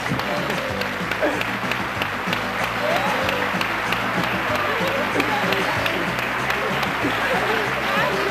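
Crowd applause fills a 1993 Telemadrid pasacalles street-parade show, a dense, steady wash of clapping that holds evenly throughout, with voices and low background sound mixed underneath.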